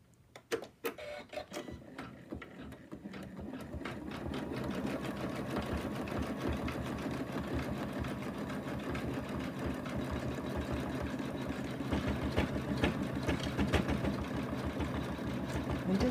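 A sewing machine runs at its slowest speed in a steady, even whir with rapid mechanical ticking, starting with a few clicks and then continuing close and alone.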